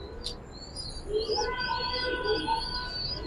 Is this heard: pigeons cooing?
yes